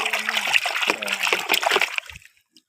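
Water splashes and sloshes as a toy animal is washed, a busy run of close splashing that dies away into silence near the end.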